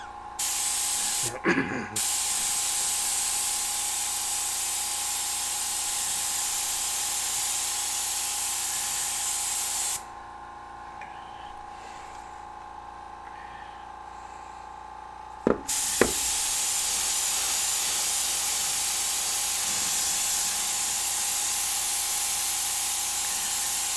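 An airbrush sprays Cratex Sealer Red paint with a steady, close hiss, pausing briefly and lowering for several seconds before resuming at full strength.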